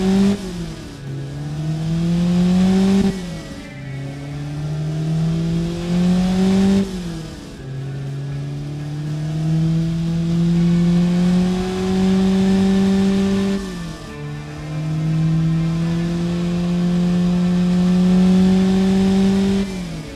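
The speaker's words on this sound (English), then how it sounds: "the engine now sounds more loud and more aggressive" Tuned car engine fitted with aftermarket parts, loud and aggressive, revving repeatedly in long rising pulls that drop off and build again, close and alone with no talk.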